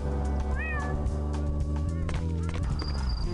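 A cat in the video game Thirty Flights of Loving gives a short rising meow, heard once over steady droning background music and game sounds.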